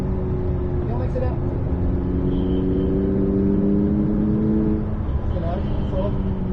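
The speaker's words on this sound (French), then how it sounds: "Et on accélère." A McLaren 600LT pulls hard through the gears on a test circuit, its engine note climbing steadily in pitch inside the cabin while a passenger talks over it.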